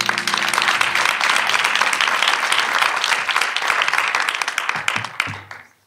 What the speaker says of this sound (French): Cher public d'Encore Heureux, merci d'applaudir Claire Selma Aitou.